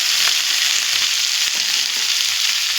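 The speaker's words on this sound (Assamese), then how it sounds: "ইফালে ভাজিলোঁ লেচেৰি মাছখিনি" Fish frying in a pan gives a steady, close sizzle with a continuous crackle and no voices.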